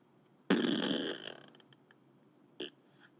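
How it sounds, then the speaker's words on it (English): Lips blown together make a fart-like noise, one short burst followed by a brief fluttering tail, close and fairly loud, then a quick second small puff. "I made like a noise with my lips"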